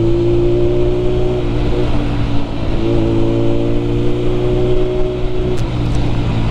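A 2022 Suzuki Hayabusa motorcycle engine runs loud and steady up close, its pitch rising and dipping through quick-shifter gear changes with no break in the drone, over rushing road and wind noise throughout.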